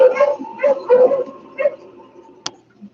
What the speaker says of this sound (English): Beulah Mott heard a dog team stopping outside the cabin.